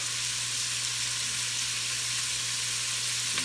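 Steady, dense sizzling of oil in a hot pan with carrots for a smothered beef pot, a continuous close frying hiss with a low hum underneath and no talking.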